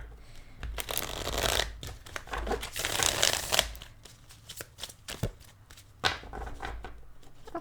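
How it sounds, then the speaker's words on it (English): Tarot cards are shuffled by hand close up in a series of riffling, flapping bursts with brief pauses between them. "many shuffles for you there"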